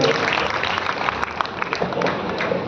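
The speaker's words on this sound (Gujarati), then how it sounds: "એટલે એક વખત એમને વિશેષ આપણે તાળીઓના ગડગડાટથી વધાવી દઈશું" An audience at a charity building inauguration gives sustained clapping that fills the whole clip with a dense, even roar of hands, moderately close.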